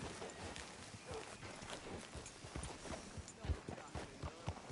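Horse hooves clip-clop at a walking pace in the Western video game Red Dead Redemption II, quiet uneven thuds over a noisy background.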